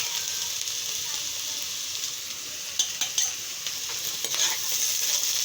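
Bitter gourd curry sizzling steadily in a pan while turmeric goes in and a spatula stirs it, producing scattered scraping and clinking strokes over the constant frying hiss in the second half.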